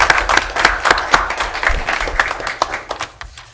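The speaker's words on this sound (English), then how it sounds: "One more round of applause for them." Close, loud clapping from a small city council meeting audience honoring students, individual claps distinct and irregular, tapering off after a few seconds.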